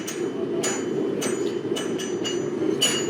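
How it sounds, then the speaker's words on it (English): Repeated strikes from the flat face of a forging hammer on a hot steel crossbar during decorative forging, about six light, evenly spaced blows over a steady, loud background hum. "so this is all with the flat side of the hammer, not being very aggressive with it"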